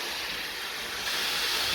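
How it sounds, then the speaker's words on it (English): Dryad's saddle mushroom searing in a hot pan gives off a loud, steady sizzle and hiss that swells slightly midway through, with no voices over it. "Now I just want to sear this Dryads Saddle."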